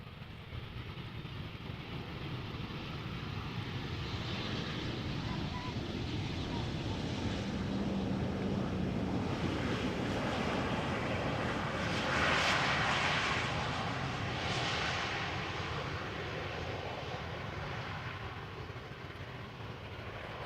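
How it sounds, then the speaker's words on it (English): An Embraer 190 jet operated by KLM arrives at Amsterdam Schiphol Airport, a steady broad engine roar that swells slightly toward the middle and stays fairly distant and continuous throughout. "This is KLM Flight 1442 arriving from Aberdeen, Embraer 190."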